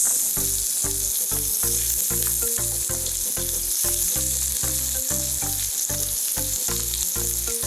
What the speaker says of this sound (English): And I'm also going to add my onions.